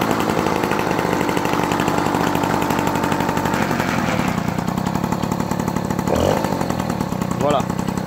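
A moped engine with a Performer exhaust buzzes loudly and continuously at close range, its harsh two-stroke rasp holding steady with slight rises. Brief voice-like sounds surface near the end.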